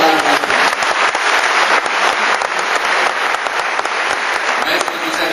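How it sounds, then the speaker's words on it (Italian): An indoor audience at an evening music event gives loud, sustained applause for a singer and pianist, dense clapping close and steady throughout. "Un applauso."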